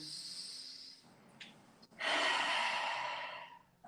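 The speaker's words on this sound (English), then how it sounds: "Now I'm making a roaring sound" A single long, forceful roaring exhale with the tongue out during a breathing exercise, loud and close, preceded by quieter breathy sounds and a brief sharp inhale.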